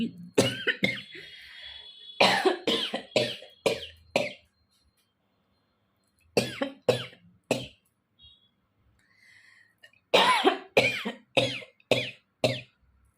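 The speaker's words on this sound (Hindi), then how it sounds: "इतने खांसी सडनली आ गई, सच बात है ये।" Repeated bursts of coughing come in several clusters, each a rapid string of harsh hacks, separated by short quiet pauses.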